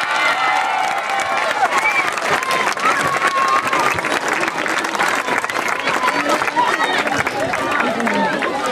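Applause and cheering for the winners at a primary school sports day, a sustained, loud outdoor crowd clapping with cheers and a hubbub of children's voices throughout.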